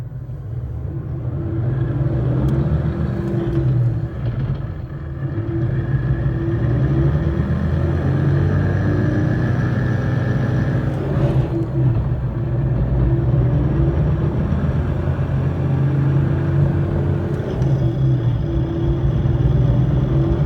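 A car with a Calimer Stage 3 MT82 manual gearbox accelerates in fourth gear, giving a steady, loud engine drone and rumble that holds throughout with no gaps.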